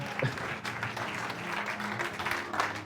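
A church congregation applauds to acclaim the Lord during a Sunday service, with dense, continuous clapping filling the room at steady loudness for the whole stretch and no speech over it.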